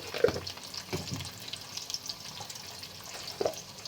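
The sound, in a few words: food frying in a pan after adding turmeric powder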